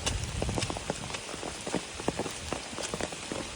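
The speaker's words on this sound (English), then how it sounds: "up here, you're gonna get some rain" Rain falling during a storm on the Appalachian Trail, steady close patter with many distinct drops striking a nearby surface in an irregular rhythm, moderately loud throughout without talk.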